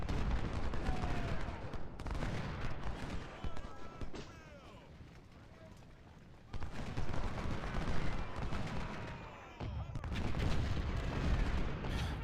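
Musket volleys and artillery fire from Ultimate General: Civil War during the Bull Run battle, with bursts of crackling gunfire and booming cannon shots that come in dense waves, separated by a quieter lull.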